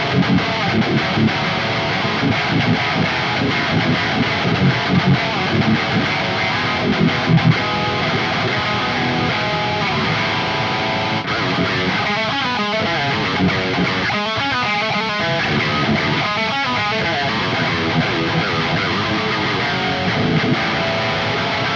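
Heavily distorted electric guitar riffs from a headless guitar run through a Quad Cortex, a dense continuous wall of tone with a few choppy, rhythmic muted passages in the middle, loud and alone without talk.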